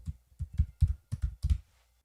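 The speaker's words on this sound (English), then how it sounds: "type in your email address" Key presses on a computer keyboard while entering an email address: a short run of about nine soft, close taps in small clusters, then quiet.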